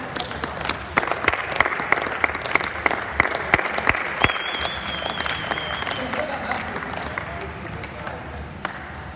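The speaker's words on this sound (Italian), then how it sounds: "Dai, un applauso a questi ragazzi," A crowd at a five-a-side football tournament final in Milan claps for the players with sustained, moderately loud applause. Someone speaks over it, and a brief whistle-like tone rises in the middle.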